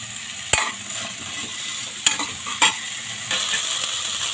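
Potatoes fry in a pan at home, a steady hiss of sizzling oil broken by a few sharp knocks and scrapes of a spoon, close and fairly loud with no voices.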